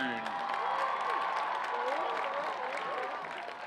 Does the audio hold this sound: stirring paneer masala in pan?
no